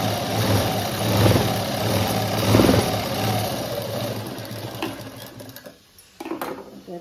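A sewing machine stitches the hem of a puff sleeve, its motor whirring in a steady close drone for about five seconds before stopping, followed by brief handling noises.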